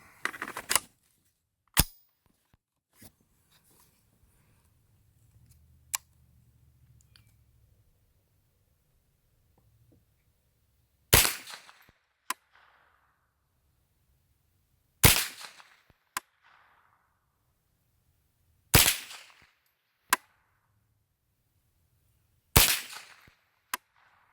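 An M&P 15-22 rifle fires Winchester .22 rounds outdoors, several sharp, snappy cracks spaced apart by long quiet gaps, each with a short trailing echo.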